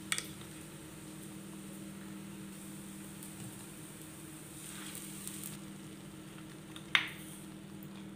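Desi ghee hitting a hot pan, a faint steady sizzle with a low hum beneath, ending in a sharp clink near the end.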